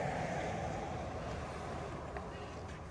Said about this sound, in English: Just wait for this pickup to go past.